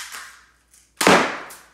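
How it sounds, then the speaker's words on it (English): BB gun shots strike a target and bounce off it: a faint pop, then one sharp, loud close crack with a quick fading rattle. "The BBs are just bouncing off of it."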